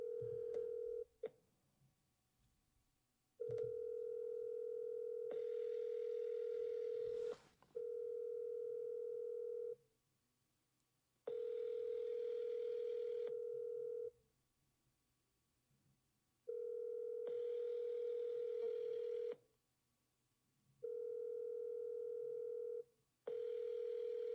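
A telephone tone plays while a call is dialed, heard as a steady, clean tone in repeated segments separated by short gaps and faint clicks. The line sounds quiet and close, with no talking.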